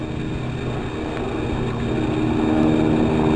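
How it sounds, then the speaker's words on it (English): A firefighting helicopter flying in over a wildfire to drop water, its steady rumbling engine and rotor drone filling the scene and growing slightly louder as it approaches. "in comes another helicopter now."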